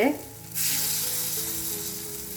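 Rava batter hits a hot soapstone pan and a sudden loud sizzle bursts up, then keeps frying steadily at close range with no voices.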